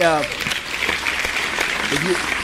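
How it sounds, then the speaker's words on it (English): A steady wash of clapping applause plays throughout, with a brief tonal chime at the start and faint voice-like bits underneath. "if you hear that clapping, that's because we got a new follower."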